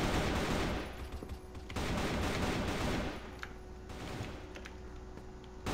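Heavy gunfire in the video game CrossFire, dense rapid automatic bursts rattling almost continuously at fairly low volume, with brief lulls between volleys.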